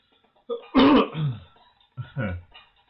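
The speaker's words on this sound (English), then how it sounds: "Question, what's up with the cough?" A couple of short, rough throat-clearing coughs close to the mic, a pause, then a second quieter burst in a quiet room.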